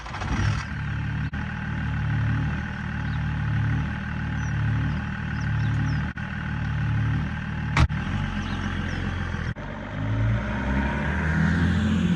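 A 423 bhp BMW 330Cd E46 diesel with a custom exhaust rumbles steadily for the whole stretch, its deep engine tone rising and falling with light revving and a brief sharp transient partway through.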